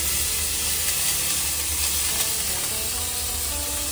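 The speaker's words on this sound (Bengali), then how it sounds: "এবার চালটা দিয়ে একটু নাড়াচাড়া করে নাও। পুড়ে যাচ্ছে ঘি, কিন্তু এই তো ছিটবে তো।" Rice stir-fried in ghee hot enough to spit and scorch gives a loud, dense, steady sizzle up close, with no pauses and no voices.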